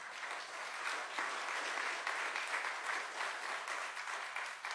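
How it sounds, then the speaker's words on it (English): A crowd at a breakfast reception for the U.S. Army's 250th applauds the Coast Guard, a continuous wash of many hands clapping, steady and fairly distant, with no voices standing out. "a round of applause for our Coast Guard"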